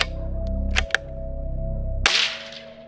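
A single sharp gunshot through a damaged suppressor that is touching the bullet, preceded by a sustained mechanical hum and a couple of small clicks, with a bright crack near the end.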